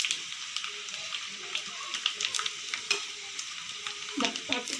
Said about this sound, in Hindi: जब तक ज़ीरा चटकने लग जाएगा फिर इसमें तड़का लगाएंगे हम कड़ी को